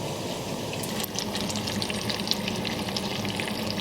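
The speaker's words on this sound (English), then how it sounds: "once you've added your batch of aubergine slices into the oil, reduce the temperature a little bit" Aubergine slices deep-fry in oil turned down to low heat, giving a steady, close, crackling sizzle that runs unbroken with small pops throughout.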